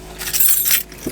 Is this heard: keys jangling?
yes